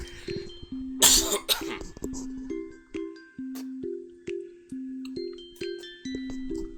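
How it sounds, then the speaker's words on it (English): A person coughs hard once to clear phlegm from the throat, then a string of soft tonal chime-like notes repeats steadily in the background. "Had a hawker I needed to cough up."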